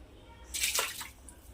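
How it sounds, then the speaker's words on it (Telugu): A squeeze bottle pressed into the tank of a Vebeto RC drift car squirts water in one short, close gush of about half a second amid a quiet background. "ఆటోమేటిక్గా నీళ్ళు ఫిల్ అయిపోతున్నాయి."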